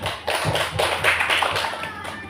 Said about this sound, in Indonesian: Kasih tepuk tangan dulu sama Pak Eri.